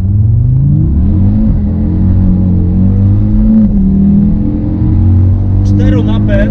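An Audi RS3 with 400 HP and four-wheel drive pulls away hard from traffic lights, its loud engine droning and rising steadily close up, with someone talking over it.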